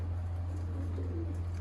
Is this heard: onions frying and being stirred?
no